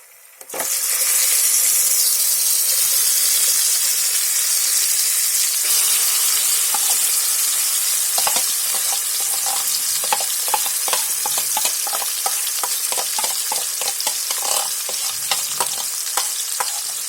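Chicken sizzles loudly in hot oil in a kadhai for biryani, with a constant bright hiss and repeated clatter of stirring in the pan.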